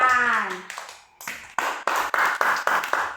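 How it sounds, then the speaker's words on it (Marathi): Children in a classroom clap their hands together, about six quick, even claps close by, after a brief voice. "टाळ्या वाजवा"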